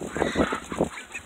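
A large farmyard duck honks in a rapid run of hoarse, nasal calls, close and fairly loud, over a steady background hiss, with no talking.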